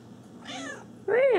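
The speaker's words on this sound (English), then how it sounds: "I'm recording the kitty." A black cat meowing indoors: a soft, short first mew, then a louder, clearer rising-and-falling meow close by, with no talking over it.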